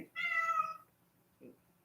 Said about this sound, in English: I don't know, the cat's after something.